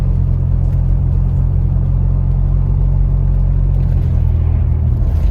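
Engine of a 4th gen Toyota 4Runner driving at about 40 mph, a loud, steady low rumble with road roar heard from inside the cabin, continuous throughout.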